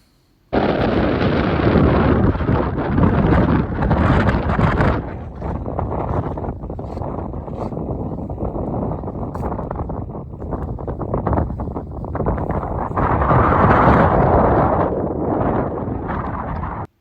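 Strong wind roars at the meeting point of three glaciers on Svalbard, a loud, continuous rushing buffet against the microphone that swells and eases over the whole stretch, with no voices.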